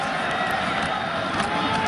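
A 2009 Nebraska at Kansas college football stadium crowd roars steadily in response to a run, a dense, continuous wash of cheering with no breaks.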